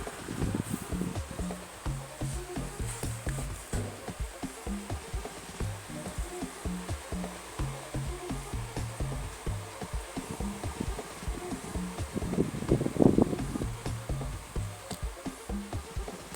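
A sewing machine stitching the leg seam of palazzo trousers from hem to top, a fast, steady mechanical whirr and patter running continuously at close range with no talking.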